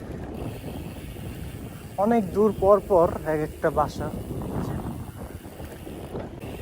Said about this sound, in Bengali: চারিদিকে খালি বাতাস আর বাতাস